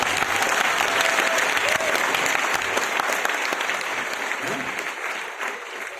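Steady, sustained audience applause from a crowd at a spiritual session led by Dr. S.P. Bharill, dense clapping that holds for several seconds and eases slightly toward the end.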